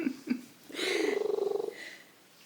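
A cat purring as it is stroked, the rumble swelling louder and pulsing steadily for under a second after a few brief softer sounds, close and fairly quiet.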